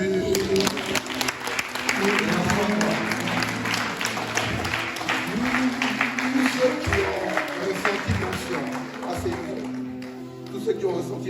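Church congregation applauding and cheering for Jesus during a worship service, sustained dense clapping from a crowd with voices calling out over it, easing slightly near the end.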